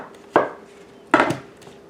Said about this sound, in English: I'll cut it in half again.